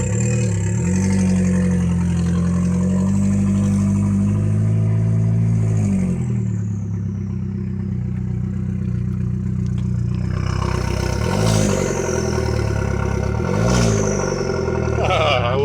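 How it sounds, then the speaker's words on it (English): A tuned VW Passat with a 1.8 turbo engine, fitted with an aftermarket intake and exhaust, idles with a steady low drone. A rising whistle from the turbo spooling sits above it, and brief revs flare up near the end. "I love hearing the turbo. It's so great."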